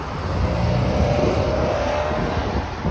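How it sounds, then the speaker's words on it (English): Motorcycle on Eglinton Avenue West, a city street in Toronto, giving a steady, moderately loud engine drone as it passes through continuous traffic noise, with no talking. "this type of motorcycle I'm okay with, because it's not too loud"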